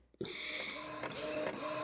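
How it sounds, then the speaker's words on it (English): An Epson 2800 printer runs off sublimation blanks, starting with a soft click and then a continuous mechanical whir with small shifts in pitch as the print head travels, close and steady with no one speaking. "It takes a while for them to print out. I mean, it's not a fast process with this slow printer"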